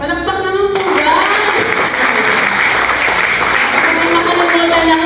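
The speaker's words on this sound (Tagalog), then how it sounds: "Palakpak naman po guys!" A crowd at a women's association meeting bursts into loud, sustained applause that fills the room, with voices mixed in and a tone sounding briefly at the start.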